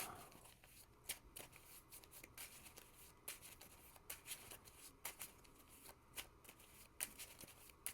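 Playing cards being shuffled by hand during a Marvel Champions card game session, with quiet riffling and rhythmic flicks and snaps running throughout at close range.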